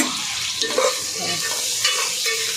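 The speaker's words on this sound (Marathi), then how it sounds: "आता हा कांदा फ्राय करून घ्यायचा" Sliced onions frying in several ladles of oil for chicken biryani, a soft steady sizzle with light scraping stirs of a spoon against the pan, no talk.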